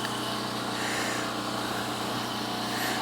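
A reciprocating saw cutting during off-grid cabin work on drywall and plumbing, a loud, dense, continuous motor buzz with steady rattling cut noise, close and unbroken throughout.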